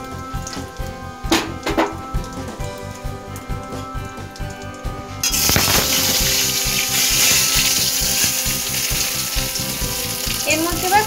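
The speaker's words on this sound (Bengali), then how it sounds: "সর্ষে তেল দিয়ে একটু গরম করে ওর মধ্যে আমি জিরা ফোড়ন দিয়ে দিলাম।" Cumin seeds and bay leaf hit hot mustard oil midway, bursting into a loud, sustained crackling sizzle after a quieter stretch of light kitchen clatter.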